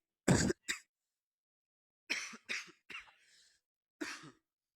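A sharp cough followed by a few separate throat-clearing rasps and short coughs, close and isolated with silent gaps between.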